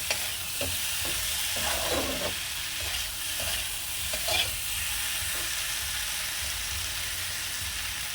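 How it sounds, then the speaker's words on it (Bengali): Ghee-coated masala is stir-fried (kosha) in a karai, making a steady, close sizzling hiss with soft intermittent scrapes of a spatula, no voices. "ঘি এই এতটুকু এখন কষিয়ে নিলে ওই গন্ধটাও ভালো করে ঢুকে যাবে"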